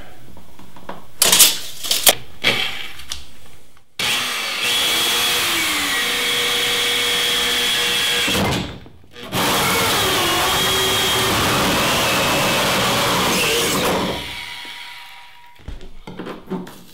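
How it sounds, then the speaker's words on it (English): A loud power drill whirs steadily in two long runs drilling holes in an old freezer, pitch rising and wavering as it bites, with a brief pause between and clatter around them. "so I drill one on each side"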